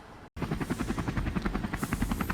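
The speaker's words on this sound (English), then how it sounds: "There's that bloody helicopter again." A helicopter in Farming Simulator 19 passes overhead, its rotor making a loud, steady chopping thud that fills the clip after a brief cut to silence.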